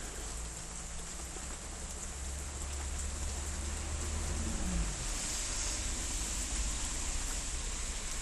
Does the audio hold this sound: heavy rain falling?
yes